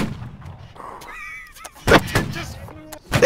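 Musket volley fire in the video game Holdfast: Nations at War, with heavy booming shots and thuds in quick succession near the end, mixed with shouting and chatter from players.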